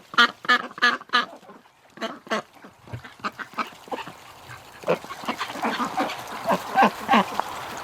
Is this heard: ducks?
yes